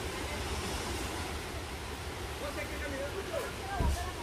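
Steady broadband rushing water noise of the Rio Colorado river in Guatemala heard nearby, continuous throughout with a faint thump near the end.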